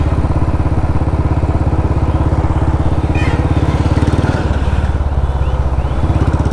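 A Royal Enfield Bullet motorcycle races a JCB with a loud, steady, close thumping engine beat. The rhythm shifts and the tone drops slightly partway through, with no clear talk over it.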